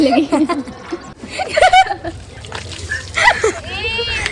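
Water splashes and sloshes from a pipe that has come loose during an outdoor song shoot, brief bursts of spatter mixed with steady trickling, heard under lively talk and a voice.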